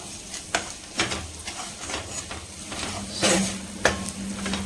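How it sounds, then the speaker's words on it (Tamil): Scraping and stirring asafoetida into a pan of hot oil, with a soft steady sizzle, occasional sharp clinks of a spoon against metal, no talking. "இதில் பெருங்காயம் சேர்த்துட்டு நல்லா இந்த ஆயிலே மிக்ஸ் பண்ணிடணும்"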